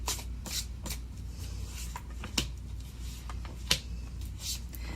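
A tarot deck is shuffled to draw three cards, with soft riffling bursts and several sharp card snaps, heard close and fairly quiet over a low steady hum.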